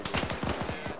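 Automatic gunfire in Arma 3 during a 1965 Belgian Congo operation, a fast rattling burst of closely spaced shots lasting about a second, loud and near with no voices over it.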